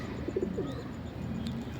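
A female pigeon of original colouring coos while being shown by hand: a few soft, close, low coos early on, then a quieter held coo, with faint ambient hiss and a brief click.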